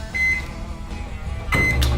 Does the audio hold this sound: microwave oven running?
yes